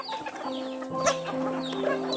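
Native chickens cluck and murmur steadily nearby on a rural farm with no talking, a busy flock sound with overlapping calls.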